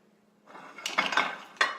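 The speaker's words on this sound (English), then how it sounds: "got this lovely pan here that I've already sprayed with Pam, so it's like non-stick" A non-stick pan sprayed with cooking spray clanks and scrapes against dishes and utensils in a home kitchen while a spaghetti squash casserole is made, with a few sharp metallic knocks over softer rattling, close and alone.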